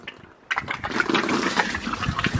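Water gushes and splashes steadily into an inflatable hot tub, starting after a brief quiet moment and continuing as a close, full rushing flow.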